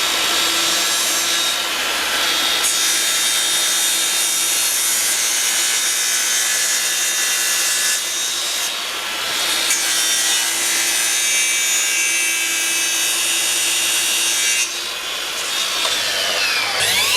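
Makita 40V XGT 305mm cordless mitre saw cutting wood, a loud high whining blade drone that runs steadily, dips briefly around a few seconds in, then resumes as the cut continues, no talk.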